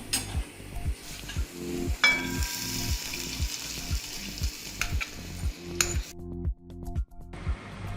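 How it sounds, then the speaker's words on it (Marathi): Hot oil tempering for a sprouted horse gram drink sizzles and crackles close by, with rhythmic stirring clinks against the pot roughly every half second. "आता मी याला फोडणी कर घालते"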